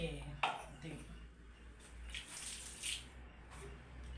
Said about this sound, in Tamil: தேவையான அளவுக்கு தண்ணி ஊற்றிடணும்